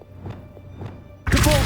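A spell-casting effect from the Hogwarts Legacy video game, with two soft whooshing thumps followed by a sudden loud, dense burst of magical energy at the end.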